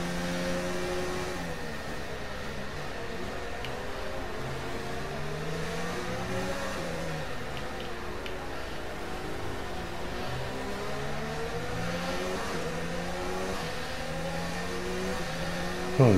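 A Formula 1 car in an F1 racing video game at the Singapore Grand Prix in the rain, its engine droning and revving continuously through gear changes, steady and loud with no voices.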